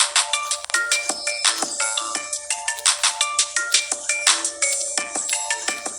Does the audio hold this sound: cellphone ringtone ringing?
yes